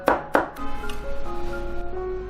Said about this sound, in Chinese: 接着我们再来剁一些蒜蓉